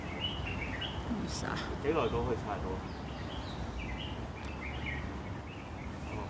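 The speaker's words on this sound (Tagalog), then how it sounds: "Naririnig niyo ba yung mga birds na huni-huni ng birds? They are chirping around." Scattered chirps and tweets from caged birds over a constant outdoor hiss, with a brief voice speaking partway through.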